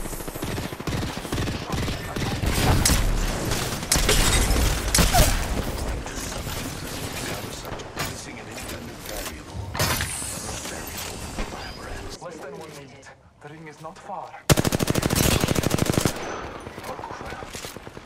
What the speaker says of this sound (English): Getting shot at.